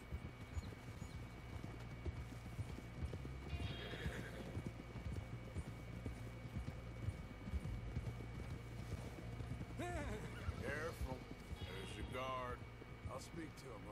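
Horse hooves clip-clop steadily in Red Dead Redemption 2, a continuous rhythmic clatter with occasional whinnies, heard under voices talking.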